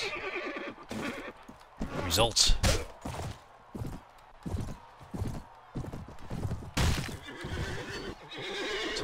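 In a medieval battle video game, a horse neighs loudly after being struck, with a short whinny burst amid clip-clopping hooves and combat thuds, while someone talks over the action.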